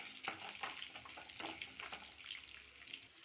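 Dal, garlic and shallots sauté in a pan with a faint, steady sizzle, broken by soft irregular scraping and stirring taps close by, with no talking.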